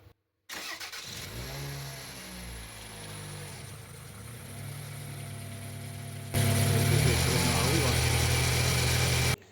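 A Toyota RAV4 engine cranks and starts during an automatic transmission oil change, settles into a steady idle, then jumps to a louder, higher rev near the end, with a voice speaking over it.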